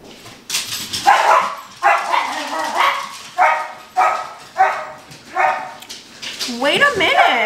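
Dogs bark in a repeated series of about eight loud, close barks at a steady pace, ending in whiny yips.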